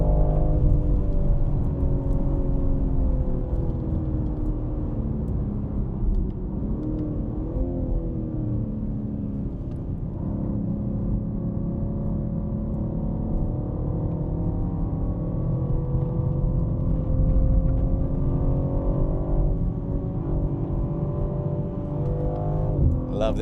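A 530-horsepower BMW M3 Touring with the S58 engine drives a hot race track, its steady loud engine drone holding with a few pitch shifts throughout, no talk over it.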